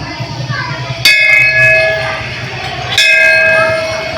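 Hanging bells at a crowded Hindu temple dedicated to Mahadev: two loud metallic strikes about two seconds apart, each ringing with a long, bright, sustained tone over low background murmur.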